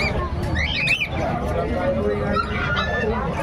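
Birds squawk and chirp among the crowd at a bird market in Bocaue, with short bright calls scattered over a dense bed of voices and market noise.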